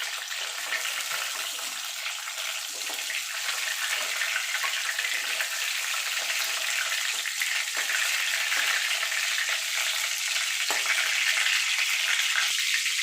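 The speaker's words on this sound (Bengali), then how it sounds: "দেখুন এইভাবে লাল লাল করে একটু ভেজে নিতে হবে।" Pieces of pointed gourd (potol) fry in hot oil until reddish, giving a close, loud, unbroken sizzle that holds steady from start to finish with no talking.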